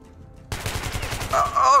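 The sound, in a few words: gunfire in the video game Metro Redux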